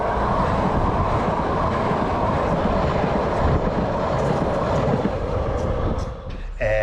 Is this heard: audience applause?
no